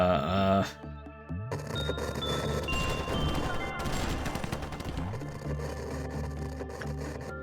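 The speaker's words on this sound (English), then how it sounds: "I just heard some gunshots amongst all the static there." Gunfire crackles amid a dense wash of static inside the video game Lobotomy Corporation, a sustained noisy burst with scattered sharp reports over several seconds, fairly faint overall.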